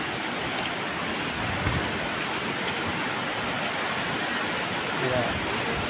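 The swollen Mai river rushes beneath a shaking bridge, a loud, continuous, close roar of fast water that stays steady throughout.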